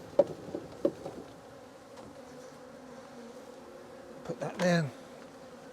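Honey bees being shaken from a frame while a nuc is installed in a hive give a low, continuous buzzing hum, with a few sharp knocks and a short louder burst near the end, and a brief spoken phrase.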